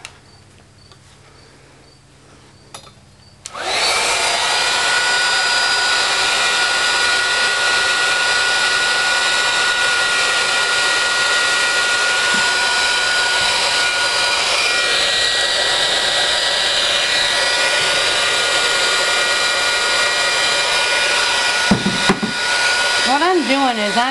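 A heat tool blows hot air steadily onto glitter heat transfer vinyl, switching on with a jump in loudness and then holding a loud, constant whooshing roar close by for about twenty seconds.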